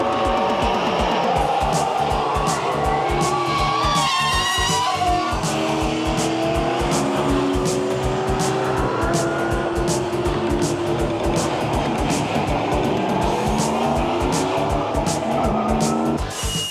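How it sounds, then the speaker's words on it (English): Stock race cars roar around an oval track at well over 100 miles per hour, a dense, loud, continuous engine din with tire squeal and pitch sweeps as cars pass close by. "The cars race against each other and travel at well over 100 miles per hour."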